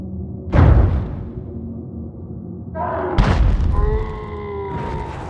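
A boxing punch replay in Fight Night Round 2: a heavy, booming thud lands at once, then a second impact hits with a whoosh and a ringing tone. The hits are loud and close, with a low rumble under them.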